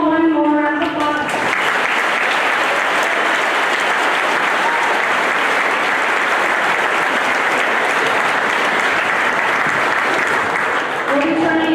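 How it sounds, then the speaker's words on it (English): A large crowd at a high school decision day event breaks into a loud, sustained round of applause that fills the room from start to finish, with brief talk audible only at the very edges. "Let's give them all one more round of applause."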